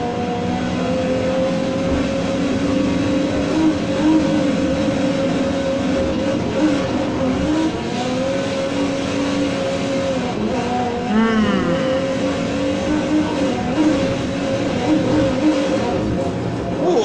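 Polestar 1 '20 in Need for Speed Heat races with a loud, sustained engine drone that shifts pitch through gear changes, with a brief squealing burst midway.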